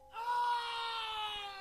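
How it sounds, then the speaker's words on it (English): A single sustained scream rings out from a dark alleyway at night, loud and drawn-out for over a second with a wavering, strained pitch. "I heard a scream."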